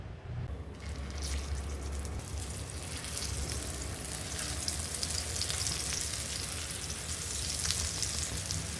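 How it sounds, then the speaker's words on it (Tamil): Rajma (kidney bean) patties shallow-fry in a pan with a loud, continuous sizzle that starts abruptly and crackles steadily, close by and without speech. "இப்போ ஷாலோ ஃப்ரை பண்ணி எடுத்துக்கலாம்."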